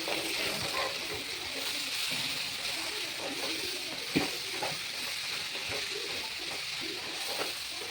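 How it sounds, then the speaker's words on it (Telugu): Tomatoes stirred into a frying pan give a steady close sizzle with soft scraping strokes of the spoon throughout, and a sharper clack near the middle. "టమాటా కూడా వేసేస్తాం. బాగా కలిపేసుకుని"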